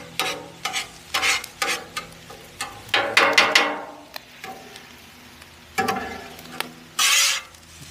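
A metal spatula scrapes and stirs chicken fried rice on a hot Blackstone griddle, close and fairly loud, in a run of uneven rasping strokes and taps over a steady sizzle, with short pauses between bursts.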